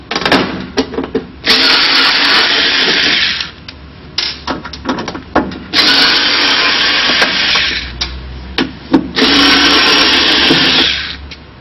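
A power drill removes screws from the underside of a ceramic glass hob taken out of its countertop, running in three long loud whirring bursts separated by short clicks, taps and handling noises.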